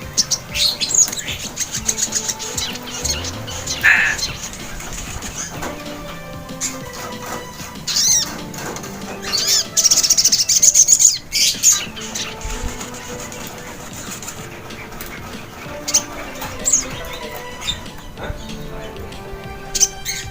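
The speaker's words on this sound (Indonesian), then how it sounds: "sogon gue itu udah mulai rajin bunyi, ngeriwik lah" A caged sogon bird chirps repeatedly in short bright bursts and trills, fairly close, with other faint bird calls and small rustles between the phrases.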